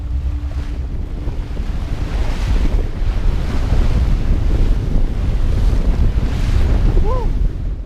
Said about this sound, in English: During the day, the wind had picked up to gale force.